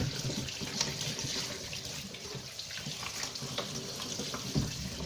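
Raw chicken rinsed under a running kitchen tap, a steady close splashing hiss of water that continues for several seconds, with small clatters and splashes in the sink.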